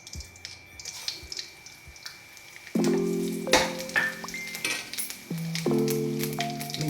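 Cumin seeds drop into hot ghee and crackle, with light sizzling at first and then sharper bursts of frying and clinking pan noise as the pan gets busier, all close by and with no talking.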